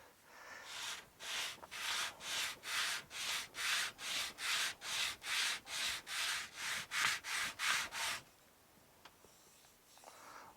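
Wooden back braces for an acoustic guitar being sanded by hand in about sixteen even back-and-forth rasping strokes, close and steady, followed by quiet handling and light taps.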